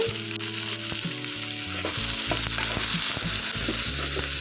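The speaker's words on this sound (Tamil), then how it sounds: "காய் நல்லா வணங்கிட்டு இருக்கட்டும்" Ridge gourd pieces sauté in a pan, giving a steady close frying sizzle with occasional stirring scrapes and clinks throughout, no voices.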